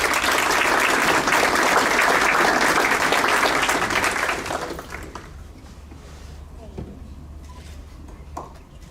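An audience at a school district staff awards ceremony bursts into loud, sustained applause for about four seconds, then it tapers off into a quieter room with a few scattered late claps.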